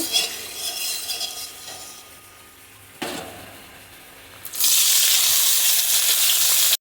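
Finely chopped medium onions dropped into hot oil for a small-fish pakora dish, a quieter sizzle with utensil clinks, then a sudden loud, dense, close frying hiss that holds steady to the end.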